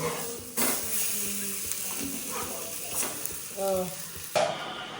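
Bangde mackerel fries in a pan for Karwar-style fish fry, giving a steady, close hiss of oil with occasional clinks and scrapes of stirring and turning.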